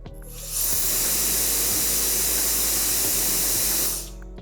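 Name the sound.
X7 turbo fan blower running without nozzle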